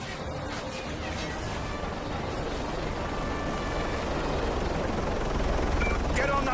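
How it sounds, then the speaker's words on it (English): A helicopter in Call of Duty: Modern Warfare 3 makes a loud, steady rotor roar with game battle noise mixed in, and it grows a little louder toward the end. "Get on that chopper and get out of there!"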